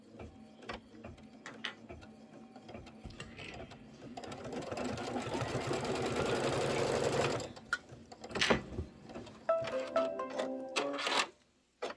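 A computerized embroidery machine stitches a tack-down line on a seasonal table runner piece, its steady rapid needle clatter building up close and loud, then stopping, with a few short clicks and thumps after.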